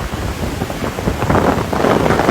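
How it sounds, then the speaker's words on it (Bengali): Gusty storm wind from Cyclone Remal sweeps the coast, loud rushing blasts that swell and surge over the roar of rough surf for a couple of seconds. "দমকা ঝড়ো হাওয়া।"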